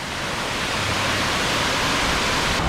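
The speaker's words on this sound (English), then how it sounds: "The upwards waterfall." An upward-flowing waterfall fountain at Epcot gives a steady, loud rushing hiss of water that runs unbroken throughout, with no talking.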